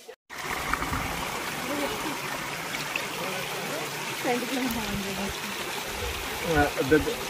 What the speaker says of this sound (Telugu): ఇప్పుడే వాటర్ ఫాల్స్ దగ్గరకు వచ్చినాం, కానీ పెద్ద వాటర్ ఫాల్స్ కాదు, మీకు చూపిస్తాను చిన్న వాటర్ ఫాల్స్